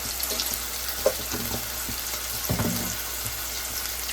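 Prawns and gongura leaves with chili powder fry in a pan, giving a steady close sizzle and crackle broken by a few scraping stirs.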